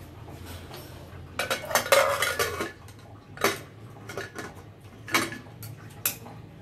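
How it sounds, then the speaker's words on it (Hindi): A pressure cooker lid is closed and settled in a home kitchen with several metallic clanks and scrapes of metal on metal, irregular and close, over a quiet room. "और अब मैं इसका कुकर बंद कर दूँगी ढक्कन।"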